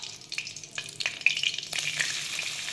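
Chopped garlic and ginger sizzle in hot oil, with sharp crackles and spitting that swell into a louder, denser fry, close to the pan and without talk.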